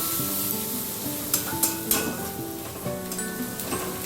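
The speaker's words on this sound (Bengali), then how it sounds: "এবার পেঁয়াজটাকে হালকা লাল করে ভেজে নেব।" Chopped onions, two large ones, frying in a pan with salt and turmeric powder, giving a steady close sizzle with a few sharper spatula scrapes and stirring clatters over about four seconds.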